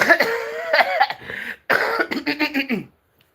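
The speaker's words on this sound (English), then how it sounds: "clear your throat" Someone clears their throat with rough, gravelly rasps in two bursts, close and fairly loud, with a short pause between them.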